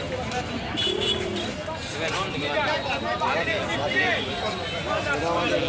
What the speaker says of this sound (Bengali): বাইরের কাছে দেখেন সুন্দর সুন্দর কবুতর আছে